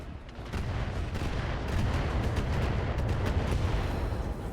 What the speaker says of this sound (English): We're probably going to take a shot from this long tom turret.